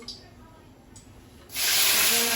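Mourola fish (Indian carplet) dropped into hot oil, a sudden loud broadband sizzle bursting in halfway through and holding steady after a quiet lead-in.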